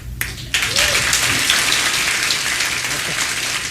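Comedy club audience clapping in response to a question about smoking, a broad steady burst of applause that starts abruptly after a brief voice and holds, hissing like rain.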